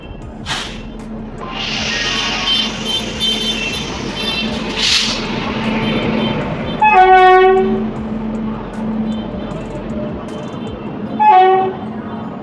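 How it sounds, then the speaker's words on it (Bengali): A passenger train at a busy railway station, wheels rolling and rumbling under crowd noise, with two loud blasts of the train horn, the second shorter and later. "আমাদের ট্রেন অ্যানাউন্স হয়ে গেছে, তাই আমরা ট্রেন ধরার জন্য এগিয়ে চললাম।"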